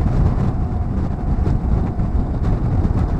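Strong wind buffets a car driving along a Norwegian coastal road near tunnels and bridges, a loud continuous low roar and rumble with steady gusting that fills the whole stretch, no talk.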